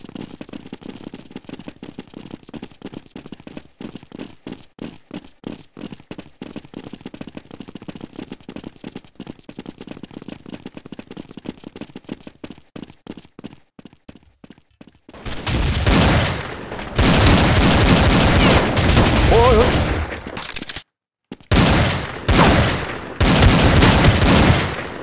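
Counter-Strike 1.6 gunfire starts as long strings of rapid, evenly spaced shots. It then gives way to a louder, denser burst of continuous firing with a brief gap near the end.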